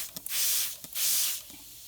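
Two close, sharp bursts of hissing spray from a trigger bottle spraying chemical-free cleaner onto a stove top, each about half a second, separated by brief pauses and small clicks of the trigger.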